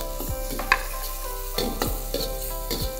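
Garlic and ginger sizzle in hot oil in a pan, a steady close fry with repeated scrape-and-stir strokes of a utensil, no talk.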